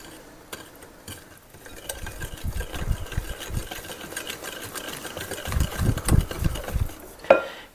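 Melted salted butter is mixed into cornbread batter in a bowl, with a steady, close scraping and stirring that grows louder toward the end and finishes in a sharp clink.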